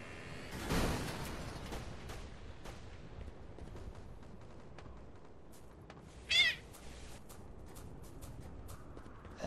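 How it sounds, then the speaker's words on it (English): A single short cat meow rises briefly over the steady background din of a competitive 6v6 online match broadcast, with no one speaking. "That sounds like a cat."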